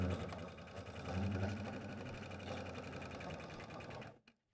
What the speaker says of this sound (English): Sew those together now.